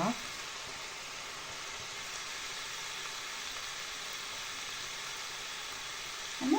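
Steady sizzling of mushrooms frying in a pan, a constant broadband hiss throughout with brief faint voice sounds at the start and end.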